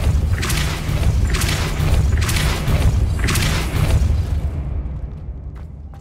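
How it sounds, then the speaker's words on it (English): Spell blasts from the Hogwarts Legacy video game: four loud booming bursts in quick rhythm, each a heavy thudding whoosh, fading into quiet at the end. "Expelliarmus, Depulso!"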